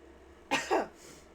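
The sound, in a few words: cough and sneeze at the same time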